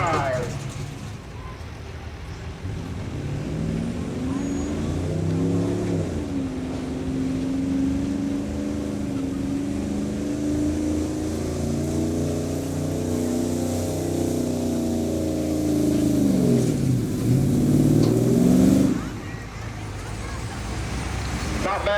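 A diesel street truck roars under load during a tractor and truck pull at a steam threshers festival, its engine note climbing and dropping in steady revving sweeps for a long, loud, continuous pull.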